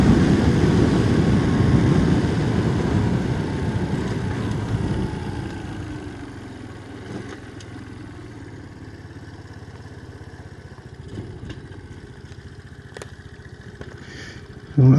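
A Honda C90 motorcycle engine runs on a new carburettor, loud and buzzing at first, then settling after about five seconds to a quieter steady idle with light mechanical clatter.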